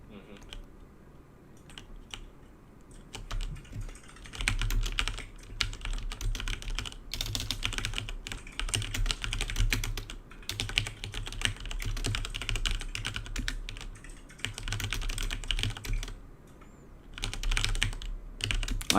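Fast, uneven typing on a computer keyboard, close and clattery, with bursts of keystrokes and short pauses throughout, a faint voice in the background.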